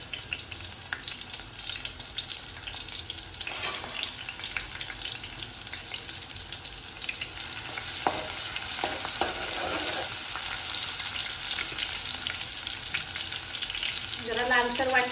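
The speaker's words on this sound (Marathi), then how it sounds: "तेल तापलं असेल लसूण. सात आठ पाकळ्या घातल्यात लसणाच्या" Seven or eight garlic cloves drop into hot oil and sizzle steadily, a bright continuous frying hiss with occasional stirring scrapes, close and fairly loud, growing fuller toward the end.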